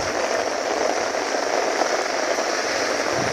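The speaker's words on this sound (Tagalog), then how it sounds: "Pero Ayan ang ulan." Heavy rain falls in a constant, even hiss, loud and close, with no voices over it.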